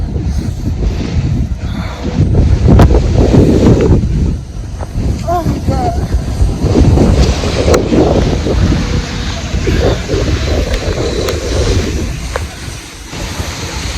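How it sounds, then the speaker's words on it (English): Strong gusts of wind roar and buffet outdoors in the rain, rising and falling, while a person briefly exclaims over the noise. "it's raining and it's windy, and it's sad for me too"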